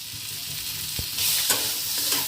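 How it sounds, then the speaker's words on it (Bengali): Onions fry with crushed garlic-ginger paste while a spatula stirs them, a close, bright sizzle with a single sharp tap followed by a few scraping strokes across the pan, no voices. "খুন্তির সাহায্যে ভেজে নেওয়া হচ্ছে।"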